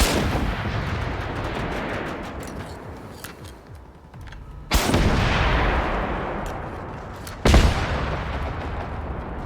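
Explosive turrets fire in Generation Zero during a base defense, heard as two big booming blasts a few seconds apart, each decaying slowly, over a steady clatter of smaller shots and rumbling action, with no talking.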